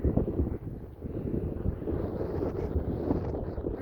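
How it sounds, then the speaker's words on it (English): Steady wind buffets the microphone on a chilly, exposed hilltop, a continuous low rumbling roar with gusty swells and no voices. "Ooh, it's chilly and windy up here"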